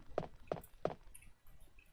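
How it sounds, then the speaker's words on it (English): Child footsteps in Resident Evil 2 on PS1, three quick, evenly spaced light steps close by, followed by faint ambient game tones. "I'm hearing child footsteps."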